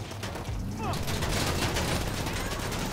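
Gunfire aimed at a car in GTA 5 Online, a rapid burst of shots after a brief quieter start, dense and loud with engine and street noise underneath and people talking.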